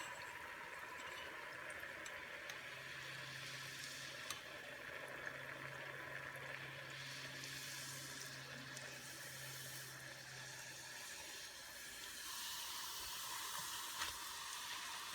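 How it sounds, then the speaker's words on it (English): Continuous sizzling of kokis batter frying in hot oil, a steady crackling hiss with occasional pops, moderately quiet and close, swelling slightly near the end. "you dip it in, and it will fry"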